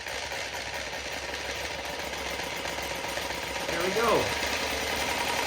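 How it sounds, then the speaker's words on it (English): A homemade motor-driven gear pump built as a grouting pump for a geothermal drilling rig runs with a steady mechanical whir and hum that swells slightly near the end, while a person briefly speaks over it. "It should be self-priming actually because of the gear pump itself."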